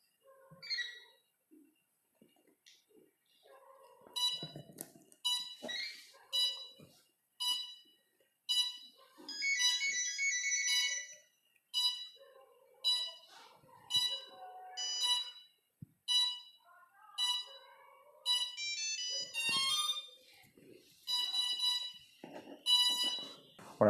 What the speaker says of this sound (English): So we could hear the ESC beep and followed by the regular startup tone from the buzzer.